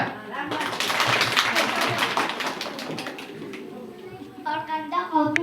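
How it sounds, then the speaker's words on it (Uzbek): Children clapping their hands along at a festive Snow Grandfather celebration, a busy patter of small hands lasting a few seconds under a noisy room, then fading as kids' voices chatter. "Qarsak."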